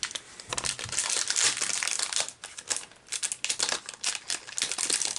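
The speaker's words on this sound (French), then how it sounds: "Je vais ouvrir les pochettes au cas où." Crinkly foil wrapper of a Pokémon card booster pack being torn open and handled, a dense run of close, loud crackling and rustling bursts with short pauses, no talking.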